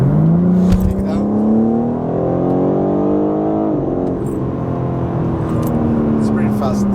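A mint green 2024 BMW M4 Competition xDrive accelerates, the engine revving upward, dropping briefly at a quick gear shift, then climbing again while a person talks over it.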